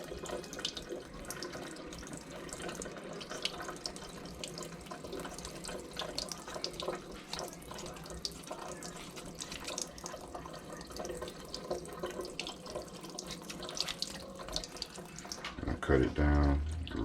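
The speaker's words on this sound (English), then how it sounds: "rinse it off really well" Water from a running faucet splashes steadily into a sink while chitterlings are rinsed under it, a continuous close wash with small bursts of spatter and a louder clatter near the end.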